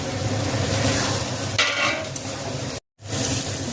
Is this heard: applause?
no